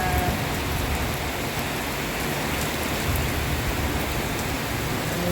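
Steady rain falls continuously, a dense even hiss of drops on surfaces with no pauses or voices.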